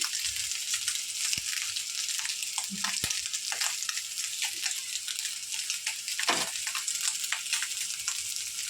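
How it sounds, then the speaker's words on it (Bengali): Fish sizzling in hot oil in a home kitchen pan, fried until reddish-brown, with a steady close crackling hiss and occasional louder pops and spatters throughout. "মাছটা ভালো হয়ে গেছে লাল লাল করে ভেজে নিয়েছি"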